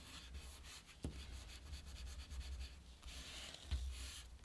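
Glued paper pressed and rubbed down firmly onto a notebook cover by hand, a quiet continuous scratchy rubbing with a few sharper taps and pats, close up.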